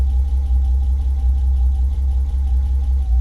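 An old BMW found in a forest, its engine running with the gas pedal held down, giving a steady, loud, close rumble that holds even with no break.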